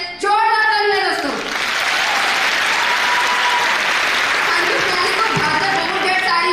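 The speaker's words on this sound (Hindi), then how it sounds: "तो हम चाहते हैं हमारे सेठ साहब सीनियर सिस्टम के लिए एक बार दिल से जोरदार तालियां दोस्तों" Loud, sustained audience applause at a motivational promotion speech event, rising sharply after a brief tone and holding steady as a dense crowd clapping wash for several seconds before easing slightly.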